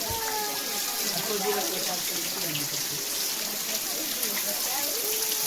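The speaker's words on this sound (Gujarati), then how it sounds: "વરસાદ પડવાનો આખો દિવસ ચાલુ છે." Steady rain patters down continuously on a village, with faint muffled voices in the background.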